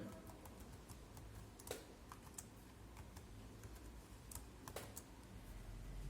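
Someone types a password on a computer keyboard, quick irregular key clicks with a few sharper taps, faint and close over a low steady room hiss, with no talking.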